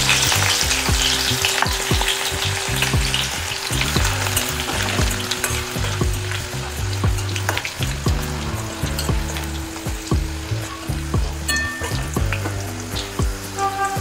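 Hot oil sizzles loudly and steadily with cumin seeds frying in a pan, a dense unbroken hiss with occasional stirring, while background music plays underneath throughout.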